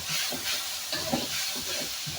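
Liver fries in hot oil in a pan, a continuous close crackling sizzle with soft stirring and scraping thumps woven through it, and no one speaking.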